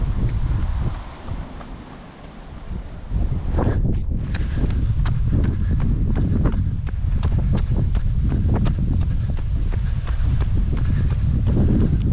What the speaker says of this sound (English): And a bit of a headwind